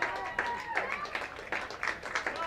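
Crowd at a college baseball game cheering and clapping, a few scattered claps and cheers fairly faint and distant, under a commentator's talk.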